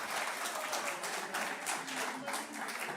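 A room claps in thanks for a guest, producing a sustained, fairly even roll of applause at moderate distance, with no voices over it.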